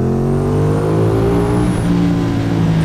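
A Ducati Panigale V2 955 cc 90-degree V-twin motorcycle engine rumbles loudly and steadily up close, its deep throbbing note shifting pitch as the throttle is worked.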